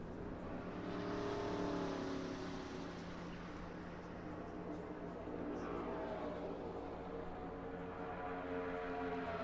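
Steady roaring engine drone from NASCAR stock cars racing at Talladega, a sustained pack of engines with shifting pitch as cars run and peel off, heard at a moderate level under commentary.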